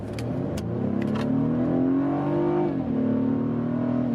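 A BMW F30 328i four-cylinder in sport mode accelerating hard: engine note climbs steadily through the revs, drops briefly at a gear change, then pulls again, close and loud from inside the car.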